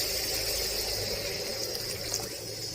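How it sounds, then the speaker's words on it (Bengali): A mug of water pours steadily into simmering fish masala gravy whose spices have been fried until the oil separates, giving a continuous, close rushing splash that stays even for the whole stretch. "এবার আমি জল দিয়ে দেবো"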